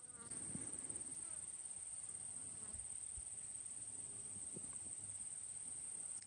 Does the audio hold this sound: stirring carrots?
no